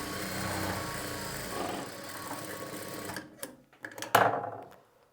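A tailoring sewing machine with a loosened bobbin case runs in a fast, steady mechanical whirring stitch up close, then stops, leaving a few clicks and knocks as it halts.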